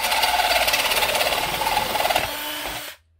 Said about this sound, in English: So we'll go ahead and start drilling this.